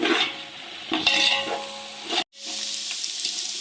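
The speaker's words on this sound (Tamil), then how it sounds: "இது அந்த பச்சை வாசனை வர வர நல்லா வதக்கணும்" Ginger garlic paste is sautéed in a pan for chicken biryani, giving a close, steady sizzle with scraping stir strokes. The sound cuts out briefly, then the frying resumes at a similar level, with no talk.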